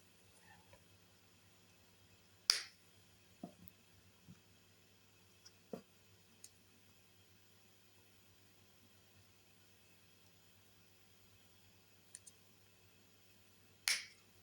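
Side cutters snip copper wire for a handmade vine cuff bracelet, producing a few sharp, isolated clicks spaced irregularly over a quiet, faintly hissing background, with the loudest snips near the start and end.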